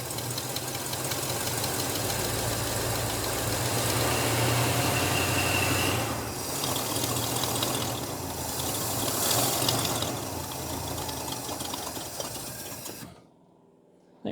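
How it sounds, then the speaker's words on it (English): Engine idling low with a steady, ticking mechanical rumble and rhythmic clatter, close and continuous, before it cuts off near the end. "it's actually idling way, way low, way low"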